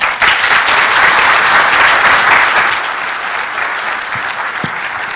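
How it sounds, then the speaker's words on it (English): Sustained applause from a conference audience at Shmoocon 2008, a dense, steady wash of clapping that holds loud for several seconds and then eases slightly. "So give a warm round of applause to Simple Nomad."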